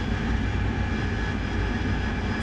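Steady aircraft engine roar in DCS World as the throttle is eased back, a dense, continuous drone with no talk over it.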